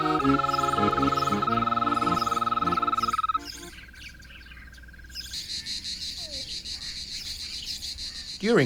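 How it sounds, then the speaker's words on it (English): Insects sing in a European summer setting, with a dense, steady buzzing trill that shifts pitch partway through. It is fairly loud and continuous, with a few faint bird-like calls in the background. "the cicadas begin to sing at dawn when the sun strikes the trees, and stop only at night"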